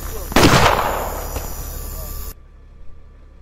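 A single loud sniper rifle shot in The Henry Stickmin Collection, a sharp crack followed by a decaying echo that cuts off abruptly, with a faint second report shortly after.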